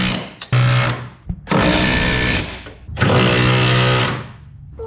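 Power tool, likely an impact wrench, tightening subframe bolts during a VR6 swap on a Mk2 race car: three loud, close whirring bursts of about a second each, separated by short pauses, with no talk.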